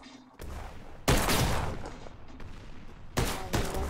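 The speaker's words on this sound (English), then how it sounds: "Man, that's a lot of explosions." Loud bursts of explosions and rapid gunfire from a video game, with heavy booms striking in quick succession and a rumbling tail between blasts.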